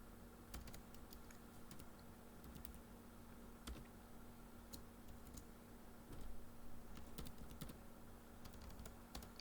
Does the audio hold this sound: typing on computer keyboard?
yes